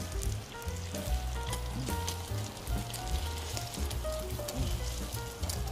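Bacon sizzling beside blueberries coming to a boil on a griddle, a continuous crackling fry with scattered pops and low bubbling, close and steady, with no speech over it.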